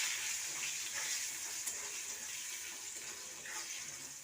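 Potatoes and ridge gourd fry in oil for a fish curry, giving a steady, close hiss and crackle of sizzling that holds evenly throughout with no voices.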